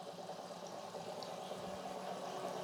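Gas from the Immortal gas generator bubbling steadily through water in a glass, a continuous soft fizzing and gurgling close by with no talk.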